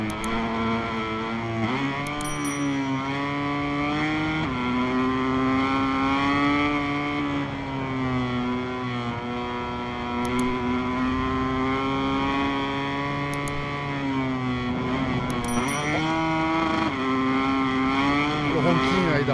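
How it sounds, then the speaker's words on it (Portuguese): A Honda MotoGP race bike screams at high revs in the MotoGP 23 video game from a helmet camera view, a loud continuous whine rising and falling with gear shifts and no talk. "O ronquinho aí da Honda do Takaki Nakagami."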